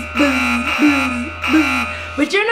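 Electronic buzzer in an online addition game for kids, sounding as three short buzzes followed by a rising tonal chime, close and fairly loud.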